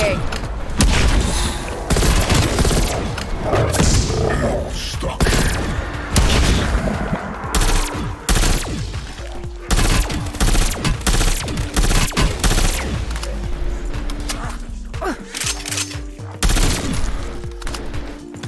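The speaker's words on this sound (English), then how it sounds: "You guys can see the hipfire on this M60 is really bad, because I picked it up from the ground" M60 machine gun fired from the hip in Call of Duty: Cold War Outbreak mode, loud repeated bursts of rapid automatic fire with booming impacts, mixed with game effects and someone talking over it.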